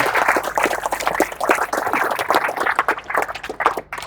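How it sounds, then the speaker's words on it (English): Audience applause following a talk at a lean leadership summit, a dense, steady wash of many hands clapping that fills the whole stretch at moderate loudness with no voices over it. "Let's give him a round of applause"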